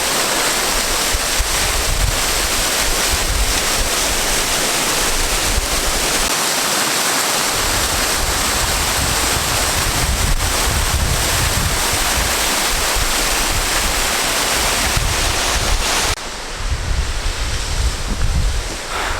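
A waterfall at Rock Garden in Darjeeling roars close by as a loud, continuous broadband rush of falling water, steady throughout with slight buffeting, and no talking.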